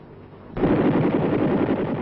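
An M60 machine gun fires from the open door of a US Army helicopter during a 1967 Vietnam firing run. A loud, dense burst of rapid gunfire erupts abruptly and roars on continuously, with no talking.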